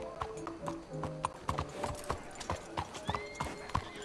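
Horse hooves clip-clop steadily in Red Dead Redemption 2, a rhythmic run of close, distinct hoof strikes on the ground with a short whinny among them.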